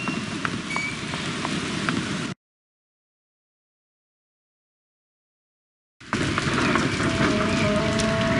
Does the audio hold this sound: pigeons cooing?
no